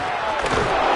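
A football stadium crowd roars behind the defense on a big third down, a dense, loud, sustained wall of cheering voices.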